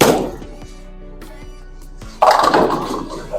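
A 14-pound !Q Tour Ruby bowling ball rolls down a bowling lane, giving a steady low rumble with a few soft thunks, then crashes loudly into the pins near the end.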